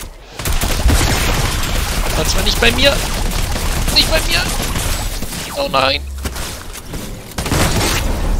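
Sustained rumbling explosion blasts and crackling bursts from the video game Fortnite, loud and continuous, with a person briefly exclaiming partway through.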